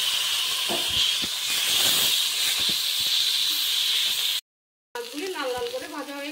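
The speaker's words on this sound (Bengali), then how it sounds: "তেল গরম হয়ে গেল, এবার তাতে আমি মাছগুলো দিয়ে দিচ্ছি" Rohu fish pieces frying in hot white oil in a pan, a loud steady sizzling hiss with scattered crackles for several seconds, cutting off briefly before a voice speaks at the end.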